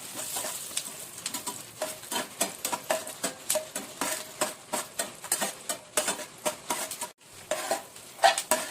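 Peanuts frying in oil while being stirred for chatpatit bhadang, with a steady run of scraping, clattering stirring strokes against the pan over a low sizzle, each stroke distinct and fairly close; one brief pause near the end.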